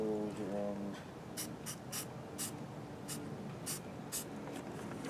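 Spray painting a Jeep tailgate: several short, close hissing bursts of spray come at irregular intervals over a low background hum, with faint rubbing between them.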